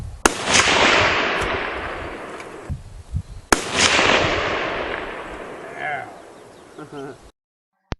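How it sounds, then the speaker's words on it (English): A sharp gunshot cracks loudly at the start, followed by a second report a few seconds later, each trailing off into a long fading rumble, with a faint voice in the background. "The gunshot is the big spike at the beginning."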